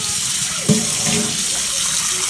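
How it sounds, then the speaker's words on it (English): Cold water runs from a kitchen tap into a container for peeling potatoes, a steady loud hissing rush that goes on without a break. "we need a container of cold water"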